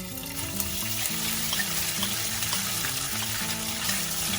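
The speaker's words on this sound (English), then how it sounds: "I'm going to stir fry the beancurd" Beancurd stir-frying in about two tablespoons of hot oil over a medium flame, a steady broadband sizzle running throughout with a faint tonal hum underneath and no voices.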